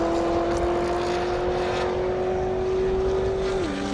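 Drag racing cars at an airstrip: a loud, steady high-pitched engine drone fills the whole stretch, its pitch holding almost level before dropping near the end, over constant wind-like roar with no talk.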